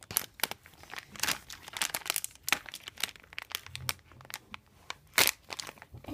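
Plastic blind bag packaging for a Littlest Pet Shop toy being torn open by hand, loud close crinkling and crunching with sharp tearing bursts throughout, no talking.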